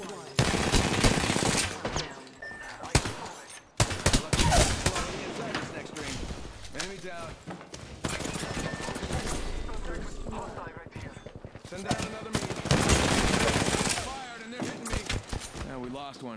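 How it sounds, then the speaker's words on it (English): Automatic gunfire from Apex Legends, Season 10, in dense overlapping bursts across most of the stretch, loud and close with brief gaps, mixed with other game sounds and a voice talking over it. "I'm taking fire. Getting shot at."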